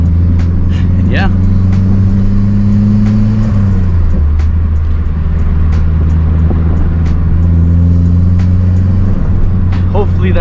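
A Stage 2 Mazdaspeed 3 with a turbocharged engine is driven on the road, its loud, steady engine drone dipping and rising as it shifts, with occasional faint hisses and clicks. The exhaust hangers are loose and may rattle.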